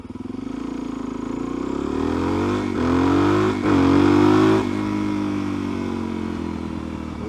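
Suzuki DRZ motorcycle fitted with an FCR carburetor revs up in several sharp, rising bursts before settling back to a steady, throaty idle, loud and close with no talking.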